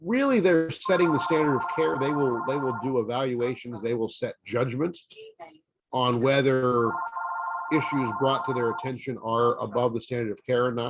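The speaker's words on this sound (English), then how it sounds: "Sorry about the phone." A telephone rings in two bursts of a steady trilling tone, sounding under continuous talk from a presenter who keeps speaking through the rings.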